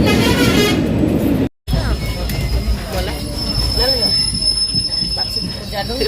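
From inside a moving passenger train, wheels squeal and whine on the rails over a low rumbling roll, with a brief cut partway through and voices talking faintly.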